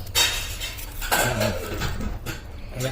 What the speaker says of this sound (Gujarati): પપ્પા ડુંગળી કાપે છે હવે